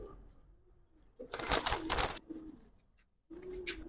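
Giribaz pigeons, an old flying breed, coo in low, soft tonal bursts near at hand, with a brief loud rustling flurry in the middle and a fresh coo at the end.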